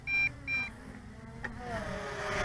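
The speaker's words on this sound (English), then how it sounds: "All right, we got some beeps." Two short, bright electronic startup beeps from an MJX Bugs 2 brushless RC quadcopter sound close together, followed by a soft chirp and a rising motor whine.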